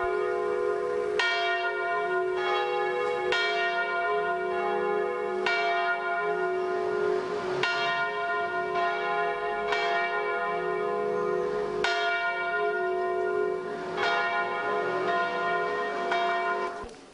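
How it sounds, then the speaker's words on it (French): The church bells of Guéret, France ring for mass in a steady, repeating peal, each strike ringing on with rich overtones, loud and close with no talking. "Les cloches de l'église de Guéret sonnent."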